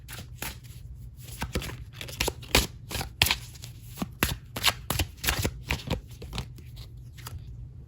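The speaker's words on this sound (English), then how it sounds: "I want to pull one more card here and then an oracle." Tarot cards shuffled and pulled from a deck, a steady run of crisp riffling snaps and slides with sharper flicks as cards are drawn, close and fairly quiet with no talking.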